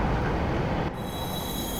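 A train in Hokkaido, Japan, rolls steadily along the rails with a continuous low rumble, joined partway through by high, thin wheel squeals.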